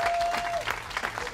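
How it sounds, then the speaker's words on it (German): Audience applause at a women's race awards ceremony at the Red Bull Ring in 2019, steady clapping from a crowd sustained for the whole moment, fairly loud and dense with a faint tone running underneath. "dementsprechend geben wir mal dem Freddie Spencer einen riesen Applaus"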